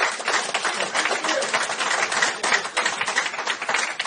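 A crowd at a school board public comment session claps and cheers in a dense, continuous burst that holds steady throughout, with a few voices mixed in.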